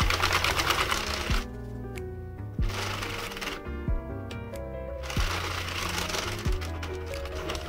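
Sentro knitting machine cranked by hand through rounds of yarn for a drop shoulder cardigan, a steady busy clattering of needles and gears with brief pauses between turns, close and continuous.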